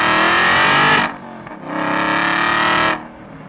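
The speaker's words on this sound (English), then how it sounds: "A couple of downshifts into second gear." A sports car engine, a roughly 35k supercar, roars loud and close through two revving blips as it downshifts into second gear, each burst cutting off sharply with a short lull between, no voices.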